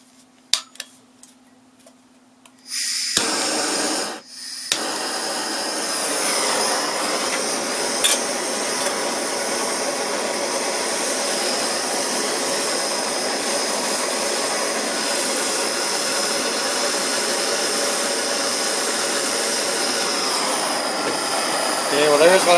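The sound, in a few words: propane torch heating aluminum for welding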